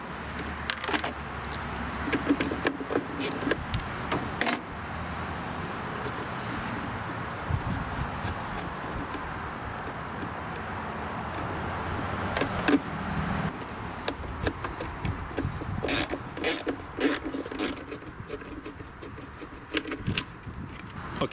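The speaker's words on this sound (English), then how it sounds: "now what I will do is remove the cables from the old solenoid" Metal clinks and small tool clatters while 7/16 nuts and cables come off the old solenoid of a John Deere lawn tractor that won't crank, with scattered sharp taps over a steady low background.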